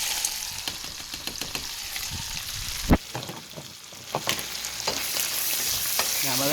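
Onions fry with cabbage and green beans in a pan, a continuous close sizzle broken by scraping stirs and a sharp clatter of a utensil.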